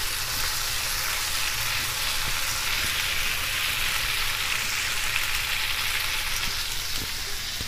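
Tandoori chicken frying in a pan, a continuous, even, close sizzle with crackling hiss and no speech over it.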